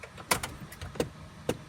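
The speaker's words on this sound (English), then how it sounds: "There's a clicking noise." A few sharp, dry clicks from a car as the ignition key is turned, spaced irregularly over a quiet background with no engine catching.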